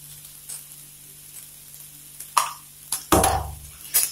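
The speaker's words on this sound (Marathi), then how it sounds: "आता आलं लसणाची पेस्ट टाकू 1 चमचा." Ginger-garlic paste dropped into hot oil for cut vada, a low background hiss broken by a few sudden bursts of sizzling and spoon clinks, the loudest one midway, no voices.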